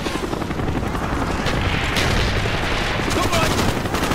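Dense gunfire in the video game Call of Duty: Black Ops roars continuously, loud rattling bursts and booms over a rumbling battlefield din with an engine drone.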